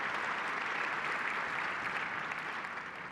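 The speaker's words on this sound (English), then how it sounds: "Let's give Adel Al-Saleh another round of applause." A conference audience gives a round of applause, dense steady clapping filling the room, easing slightly toward the end.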